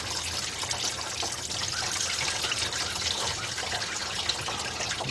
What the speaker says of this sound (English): Let that drain into the pan.